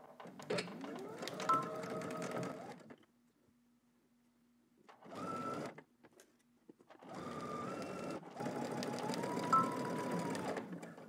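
A sewing machine stitches shoulder seams at a 5/8-inch seam allowance, running in three bursts: a steady whirring run, a short pause, a brief run, then a longer continuous stretch, close and moderately loud with no talking.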